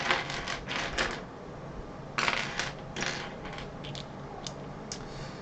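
Bursts of clacky typing on a Clueboard mechanical keyboard, quick runs of keystrokes separated by short pauses, fairly close and faint against a low background hum.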